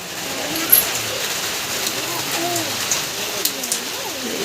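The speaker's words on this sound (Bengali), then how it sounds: "এই দেখো সকাল থেকে বৃষ্টি" Steady rain falls on surfaces outdoors at a home, a continuous hiss with scattered drips and faint bird calls, while a person talks over it.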